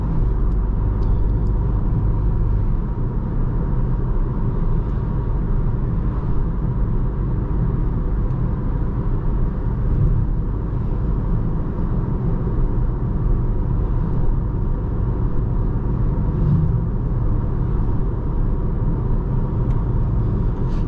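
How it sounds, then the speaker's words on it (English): Inside a 2023 VW Jetta GLI on the road: a constant low rumble of tire and wind noise, fairly quiet and unbroken, with no talking. "It's fairly quiet besides some tire and wind noise, but that's of course to be expected."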